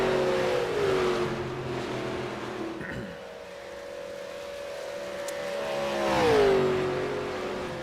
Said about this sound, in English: They're going to run around and catch the pace car.